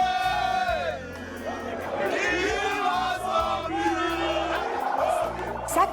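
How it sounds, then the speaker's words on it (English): A massive, dense crowd at Ladipo Market trails a presidential candidate, a loud continuous roar of chatter, shouts and whoops with a chant-like voice rising above the din throughout. "Second stop was Ladipo Market, which also went agog with a massive crowd trailing the presidential candidate."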